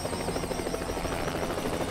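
A helicopter lifting off in the video game Hitman, a loud, steady rotor chop with dense engine roar filling the whole short moment.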